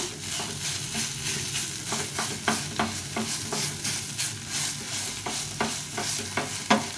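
Bottle gourd frying in a pan while a spatula stirs it, soft steady sizzle punctuated by regular scraping strokes against the pan, close and uninterrupted by speech.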